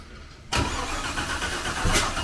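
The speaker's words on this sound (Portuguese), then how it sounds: "esse é o que dá no escape. Quando escutar isso aí pode parar porque ele deu no lugar errado." Car engine backfiring through the exhaust after a quiet start, with a sudden loud pop followed by rough running engine noise and a second pop near the end.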